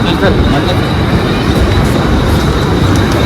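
A Mumbai local train rumbles along in a loud, steady roar, with continuous rolling noise from start to finish.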